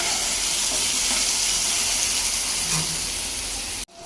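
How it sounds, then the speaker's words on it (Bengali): Potatoes frying in hot oil in a home kitchen, a steady loud sizzle and hiss close by, unbroken for about four seconds before cutting off abruptly, with no voices. "সয়াবিন রান্নার জন্য একটু আলু আগে ভেজে নেব"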